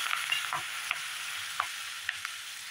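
Green chillies and curry leaves fry in a pan for a fresh field bean biryani, a soft steady sizzle broken by a few light stirring scrapes, with no talking.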